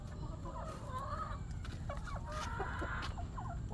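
Chickens and roosters at a rural riverside home near Barishal cluck in short repeated bursts, close and clear over a steady low background hum.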